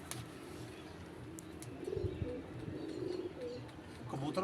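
Soft, low cooing from slate-grey pigeons and their young rolls on for a couple of seconds over faint outdoor background noise, fairly close.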